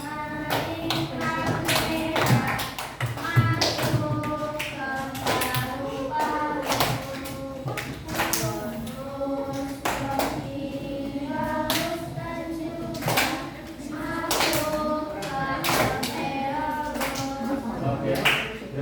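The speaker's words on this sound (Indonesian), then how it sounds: "Semuanya ikut tepuk tangan." A school class in Indonesia claps in rhythm while singing together about the respiratory organs, with sharp, close, repeated hand claps under the group's voices throughout.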